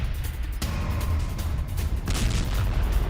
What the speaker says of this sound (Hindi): आईडीएफ की मरकावा बैटल टैंक से गोलीबारी की ये तस्वीरें आप देखिए।